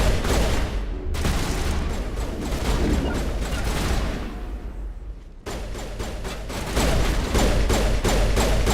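Pistol gunfire in the video game Mass Effect, repeated sharp shots over a dense bed of combat effects, with a brief drop to near silence before the firing resumes steadily.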